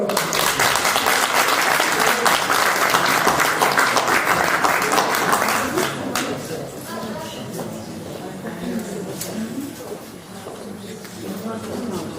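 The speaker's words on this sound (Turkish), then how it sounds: "Güçlü bir alkış alalım." An audience at a poetry anthology launch event applauds loudly and densely for several seconds, then the clapping thins and softens while background murmuring continues.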